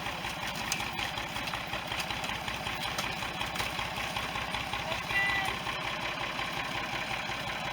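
A farm tractor in a sorghum cane field idles and creeps in reverse down the row, a steady low engine drone at moderate distance under rustling field noise.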